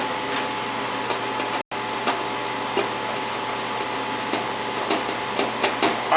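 An old Goodman gas furnace runs with a steady low mechanical hum and faint clicks and taps, heard close with one brief dropout.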